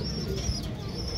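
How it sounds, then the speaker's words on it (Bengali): Pigeons coo faintly and briefly in a loft, low murmuring calls set against a steady background hum. "খুব সুন্দর একটা নর কবুতর, অনেক চঞ্চল কবুতর দর্শক"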